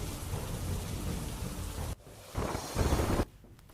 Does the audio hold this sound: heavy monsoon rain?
yes